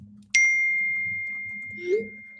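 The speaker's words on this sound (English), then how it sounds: "I like the Albert Breer phone dinging thing." A phone notification ding: one bright chime that rings out and fades slowly over low background murmur, heard during a live NFL draft watch party broadcast.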